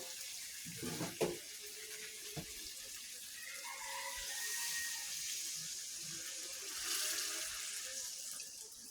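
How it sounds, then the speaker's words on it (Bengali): Broth is poured into a pan of simmering beef liver curry, a steady watery pouring and bubbling wash that swells twice over a few seconds, with a few sharp clinks early on and no talking. "এখন আমি দিয়ে দিব ঝোল।"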